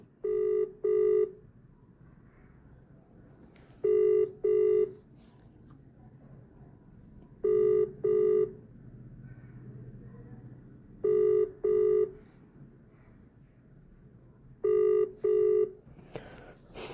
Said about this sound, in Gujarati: આપણે એમને કોલ લગાવવાનો પ્રયત્ન કરીએ